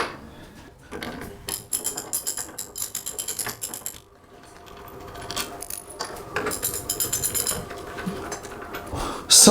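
Socket wrench ratcheting as it undoes bolts on a Lotus Elise front wheel bearing, with repeated quick clicking runs, a brief pause and then more clicking, close and clear.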